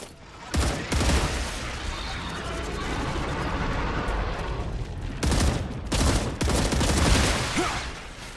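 Heavy enemy gunfire in the video game StarRupture: loud, dense bursts of automatic shots that come in waves and persist nearly throughout, with brief lulls between volleys.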